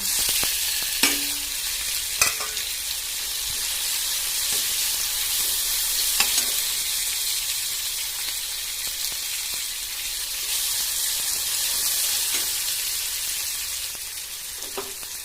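Tomatoes sauté with ginger garlic paste in a pan for a brain masala, giving a strong, steady close-up sizzle with occasional spatula clicks and no voices.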